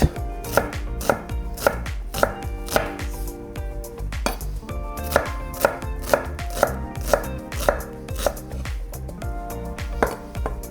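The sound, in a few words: knife dicing red onion on a board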